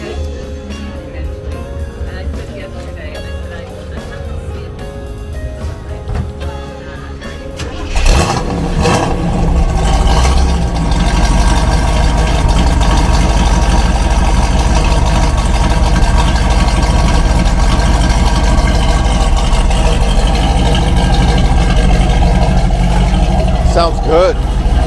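A 1969 Chevrolet Camaro SS engine cranks and catches around eight seconds in, then settles into a loud, steady rumbling idle, heard beside the exhaust, with people talking over it.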